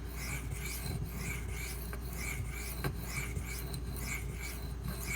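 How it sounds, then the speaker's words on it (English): A knife blade is honed on Arkansas sharpening stones, giving steady back-and-forth rasping strokes in an even rhythm over a constant low hum, close and without speech. "I'm going to spend a little extra time on the Arkansas stones just to get out as many of the India scratches as I possibly can."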